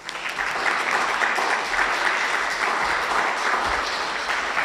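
Audience applause welcoming a speaker to the stage at a talk on a hidden drug scene at Hogwarts: steady, dense clapping from a crowd filling the room throughout, with no voices over it.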